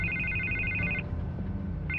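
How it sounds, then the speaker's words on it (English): A telephone rings in the Batman Telltale Series video game on PS5. Two bursts of bright electronic trilling are separated by a pause, over a low, quiet game soundscape. "I can't get the phone to stop ringing."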